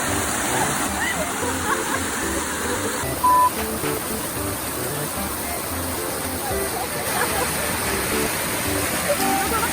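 A small roadside waterfall gives a constant rushing, splashing wash of water that fills the scene, with people talking over it nearby and a brief electronic beep partway through.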